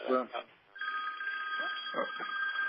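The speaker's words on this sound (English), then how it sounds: "my phone's getting an incoming" A phone rings with a steady electronic tone that runs on under quiet, low speech.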